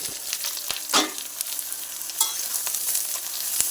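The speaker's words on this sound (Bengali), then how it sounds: "এবার আমি দিয়ে দেবো কেটে রাখা ছোটো ছোটো করে আলু আর বেগুনটা।" Small chopped potato and eggplant pieces are stirred into lightly browned onions in a frying pan, giving a steady sizzle with repeated sharp spatula scrapes and taps.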